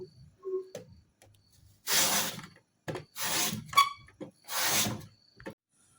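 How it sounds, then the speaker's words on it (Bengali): Potatoes being sliced into rounds on a handheld slicer cutter for homemade chips: three distinct rasping strokes, close and fairly loud, separated by short pauses and light handling sounds. "এই কাটারের এই অংশটা দিয়ে আমরা আলুগুলোকে স্লাইস করব"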